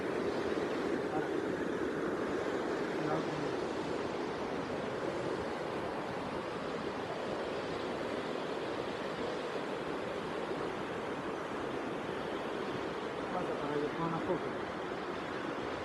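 The Talofofo waterfall in Guam roars as a constant broad rush of falling water, steady and unbroken across the whole stretch, with faint talk beneath it.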